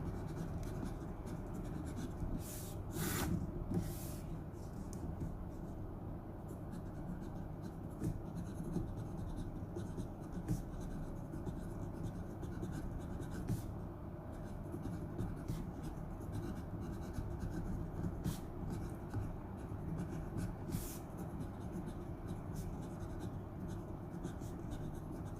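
Lotus titanium fountain pen with a wet nib writing on paper, a soft continuous scratchy rasp with irregular strokes and brief louder flicks, heard up close with no talk.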